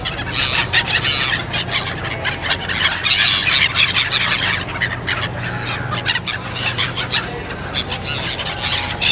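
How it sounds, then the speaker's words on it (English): Seagulls squawk and shriek over and over nearby in Kobe, Japan, a noisy, overlapping clamor of many birds with a low background rumble. "Crazy seagulls."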